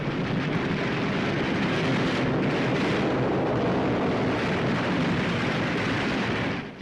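Dense anti-aircraft flak fire from a warship aimed at a Japanese torpedo bomber forms a loud, continuous roar of overlapping gunfire and blasts with no clear gaps between shots.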